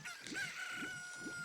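A video game chicken (a cucco in The Legend of Zelda: Ocarina of Time) clucks in a quick repeating rhythm, three pulses over a steady musical background tone.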